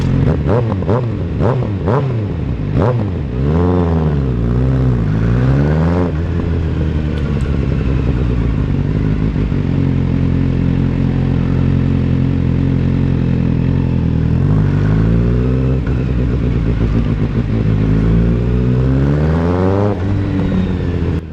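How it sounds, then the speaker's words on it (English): A 2026 Kawasaki ZX6R with an M4 GP19 slip-on exhaust revs repeatedly, rising and falling in sharp bursts, then settles into a loud, steady idle before revving again near the end, in a parking area. "record the bike exhaust"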